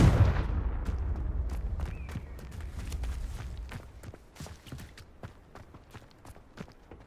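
A Confringo fire spell in Hogwarts Legacy goes off as a loud burst that decays over a couple of seconds. Afterwards come a fast scatter of light clicking steps and impacts that fade away.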